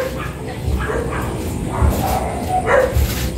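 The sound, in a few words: dog barking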